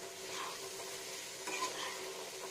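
Fish roe and raw pumpkin frying in a pan, a soft constant sizzle with a couple of faint stirring scrapes, close and quiet.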